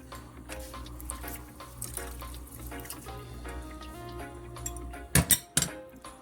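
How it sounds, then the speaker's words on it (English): Raw lamb meat being washed under a running kitchen tap in a sink, a low steady water flow with light splashing and handling clatter, then a few sharper knocks near the end, no speech. "I washed the meat off once and then I'm washing it again."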